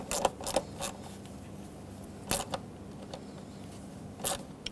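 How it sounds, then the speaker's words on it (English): An 8mm socket tightens the clamp on an air intake coupler of a 2011-2016 Ford F-350 6.2L V8, making quiet clusters of short ratcheting clicks and creaks separated by pauses. "Use an 8mm socket to tighten up this clamp."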